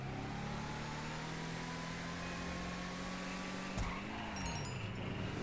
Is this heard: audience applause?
no